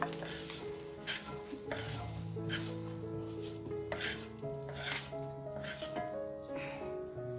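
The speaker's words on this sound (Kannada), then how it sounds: "ಬೆಳ್ಳುಳ್ಳಿ ಏನ್ ಜಾಸ್ತಿ ಹೊತ್ತು ಹುರಿಯೋದು ಬೇಡ ನೋಡಿ ಇಷ್ಟು ಹುರಿದ್ರೆ ಸಾಕು" Garlic fries in a hot pan with steady sizzling, broken by repeated scraping stirs and metal clinks from a spoon against the pan, close and moderately quiet.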